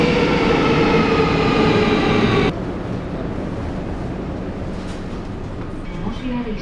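An Athens metro train gives a loud, close rolling rumble and rail roar that drops abruptly to a quieter steady hum partway through.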